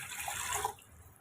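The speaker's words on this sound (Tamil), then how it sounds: "சேர்த்துட்டு இதில் தண்ணியும் சேர்த்துக்குங்க." Water pours briefly into a pan holding sugar while a syrup is being made, a close splashing flow that stops abruptly just before the end.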